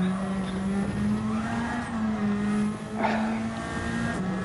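A race car in a stock-car racing video game revs steadily while its wheels spin for traction, a continuous engine drone with a brief scrape of tire squeal near the end, no voices.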